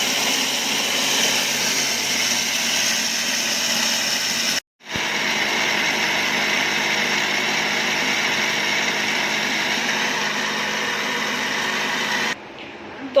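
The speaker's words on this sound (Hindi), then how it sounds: "तो चलिए मसाला मिक्स कर लूँ पीस के" An electric mixer grinder whirs steadily, grinding spice masala for a mango, chili and lasoda pickle. The loud continuous high whine stops briefly, restarts, then drops off near the end.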